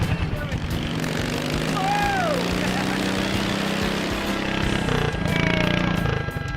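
A lawnmower engine pulling a sled drones steadily at close range, its pitch shifting slightly, while voices call out over the noise.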